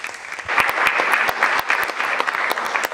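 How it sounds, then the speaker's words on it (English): Audience applause for director Christos Nikou at the press conference for the 2023 film Fingernails: steady, dense clapping from a crowd, with a few sharper individual claps standing out, continuing throughout. "And a big round of applause for CHRISTOS NIKOU"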